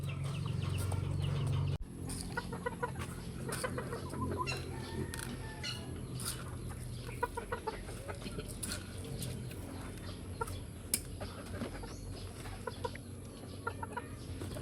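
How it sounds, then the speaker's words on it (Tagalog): A chicken clucks in quick, irregular bursts close by, joined by scattered soft clucks from other fowl after a brief low rumble at the start. "Tapang yung manok na yan."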